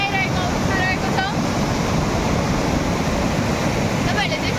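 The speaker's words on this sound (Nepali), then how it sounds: "यहाँ चाहिँ बाढी आइरहेको अवस्था रहेको छ" A river in flood rushes loudly and steadily, a broad unbroken roar of churning water with wind buffeting the microphone and brief faint tones near the start and end.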